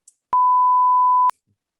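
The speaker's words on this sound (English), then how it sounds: "I'll beep it out." A single steady censor beep laid over a cuss word on a podcast, a clean pure tone lasting about a second, loud and alone against silence.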